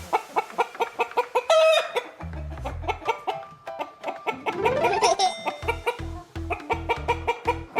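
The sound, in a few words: hen clucking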